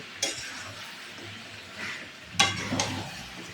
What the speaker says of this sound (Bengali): একটু নাড়ায় চাড়ায় নেব